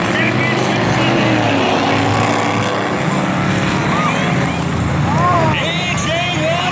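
Race trucks roar around the fourth turn of Valley Raceway at the start of a heat race, a loud sustained engine drone with rising and falling whines, mixed with crowd noise and an announcer talking.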